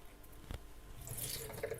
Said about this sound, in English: Drain all the liquid